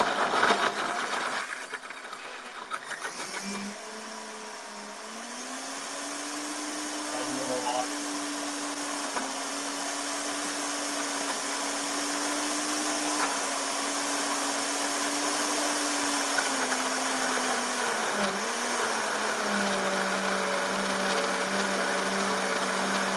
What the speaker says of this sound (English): So my blender's an older blender, and we're working on it.